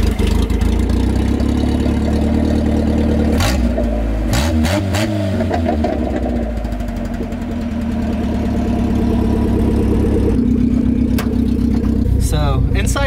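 A Toyota Corolla with only about a foot of exhaust pipe starts and settles into a loud, rough idle, heard from outside the car, with brief revs and a steady raspy drone throughout.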